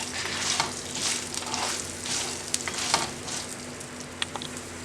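Peppercorns and spices dry-roasting in a pan for mint rasam, a soft continuous sizzle and rustle with occasional light scraping and stirring clicks, close and steady.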